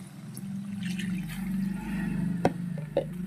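Water poured into a pan of chicken and cauliflower curry that has been fried down until the oil separates, a steady close pour with a couple of sharp splashes near the end.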